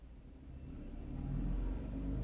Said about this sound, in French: Désolée pour le bruit, une moto qui passe.